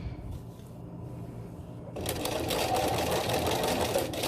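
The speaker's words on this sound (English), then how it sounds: "Going back and forth to reinforce that stitch." A sewing machine runs back and forth to reinforce a stitch on a trouser crotch seam, its steady, rapid whirr starting abruptly partway through and staying close and loud to the end.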